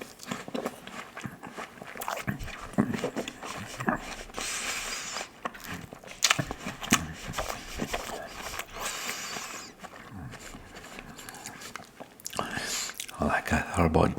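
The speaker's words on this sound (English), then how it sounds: "So I'm gonna eat, and I'll start with this orange, I'll start with this apple." A crisp apple bitten and chewed up close in a quiet room, with crunchy bites and wet chewing repeating over about fourteen seconds, and a soft low voice murmuring in places.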